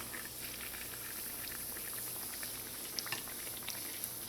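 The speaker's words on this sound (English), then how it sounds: "So you just want to fry them until they get a nice color." Trini bakes frying in a pan of hot oil, a steady close bubbling sizzle that runs the whole time with a few brighter pops near the end.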